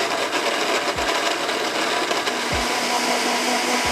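Blender whirring through sliced turmeric and galangal with a little water, a loud continuous grinding roar up close, with brief dips and thumps as the blades catch.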